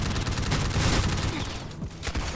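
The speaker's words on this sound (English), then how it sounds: "I love the sound these guns make. Got the silencers on them." Silenced gunfire in the Roblox game Headcrab Infection, firing as a steady rapid stream of muffled shots that are loud and close throughout.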